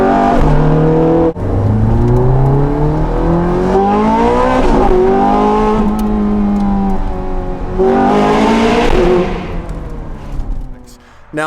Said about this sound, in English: We're in my 2008 personal Ferrari 430 Scuderia.